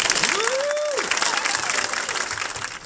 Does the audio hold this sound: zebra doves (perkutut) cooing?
no